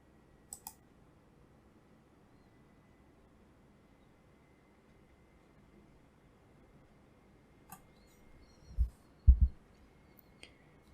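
Mouse clicks while launching Visual Studio 2019 on a computer, heard as a quick double click at the start, a lone click near the middle, and a louder burst of clicks toward the end, all close and dry against quiet background hiss.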